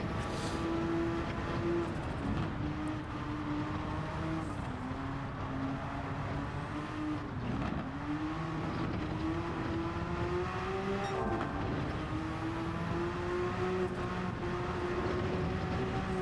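A steady Porsche 962C race car engine drone in Gran Turismo 7 at the Nürburgring holds a constant pitch that dips and rises slightly through the Carousel's gradient, continuous and fairly close with no talk.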